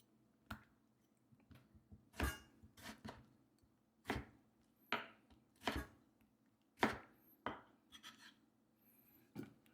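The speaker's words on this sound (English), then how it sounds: "So you cut that in a little slice pieces, just like that." A knife cutting tomatoes into slices on a board, with the stems cut off: irregular, crisp chops, close and quiet, with short pauses between strokes and no talking.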